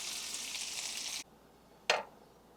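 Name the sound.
chicken frying in bacon grease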